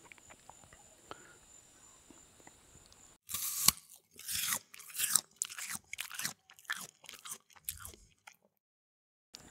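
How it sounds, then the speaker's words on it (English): Someone bites and chews a peeled Lebanese yellow fig, giving a close, soft series of wet, squishy crunches in quick irregular bursts after a quiet stretch. "We're going to test just the fig without all this peeling on here to see if maybe that makes it taste a little bit better."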